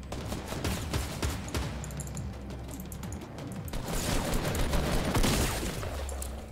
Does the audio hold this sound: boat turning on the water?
no